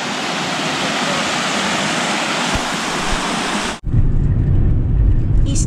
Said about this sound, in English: This is the other side of the road at Lunch Creek. Series of cascading waterfalls.